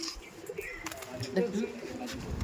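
Pigeons in a racing pigeon loft, including a bat-line bird, cooing in low soft bursts close by while someone talks over them.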